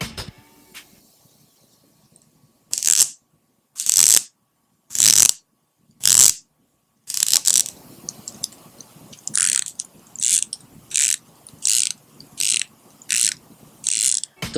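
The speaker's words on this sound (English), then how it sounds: "The bezel action of the Omega is also much better than that of the Seiko. But for the price, Seiko's bezel action is definitely satisfying." Omega Seamaster and Seiko 5 dive watch bezels rotating in turn, first a few separated crisp clicks, then a steady run of evenly spaced ratcheting clicks, close and clear with no talking.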